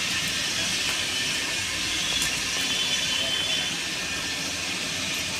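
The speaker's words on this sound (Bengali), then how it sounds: "আমি রাইস করব, তাই জলটা বসিয়ে দিচ্ছি, ফুটে গেছে।" Water comes to a boil in a pot for rice, a steady hissing, bubbling rumble held at an even level throughout with no pauses.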